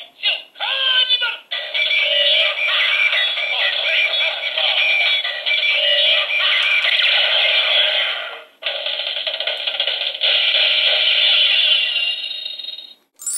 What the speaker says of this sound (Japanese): 噛みつかせると、あのサンバの耐久音が鳴りますね